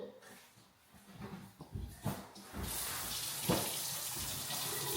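Tap water runs steadily into a kitchen sink while hands are washed before preparing oven-baked fish and plantains, a broad continuous rush starting partway through, preceded by brief household bumps and voices.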